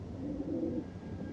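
Pigeons kept by a fancier coo in low, muffled rolls at close range, a short steady murmur with no speech over it.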